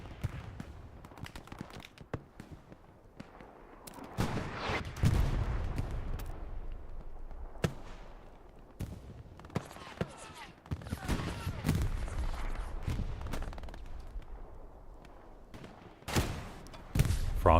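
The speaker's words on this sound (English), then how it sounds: "Axis artillery focusing there towards the north" Artillery shells in the World War II shooter Hell Let Loose, played competitively on the Pierre's Farm map, land as repeated heavy thumps and booms in bursts across the stretch, some close and loud, with a commentator talking over them.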